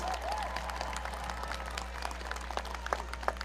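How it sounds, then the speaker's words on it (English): Steady applause from a crowd at the Rockdale County High School graduation ceremony in 2021 fills the space, sounding somewhat distant and muffled under a low constant hum. "Give yourselves an applause."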